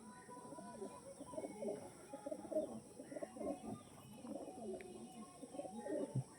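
Pigeons of a bred show stock, offered as Andhra pairs for sale, coo softly in low, repeated throaty rolls, faint and fairly distant with no talk over them.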